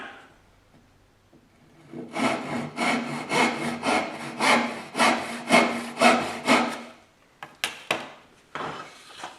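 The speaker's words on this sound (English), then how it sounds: "you're sawing to the vertical line" A hand saw cuts through wood in steady back-and-forth strokes, about a dozen rhythmic rasps close by, followed by a few shorter strokes.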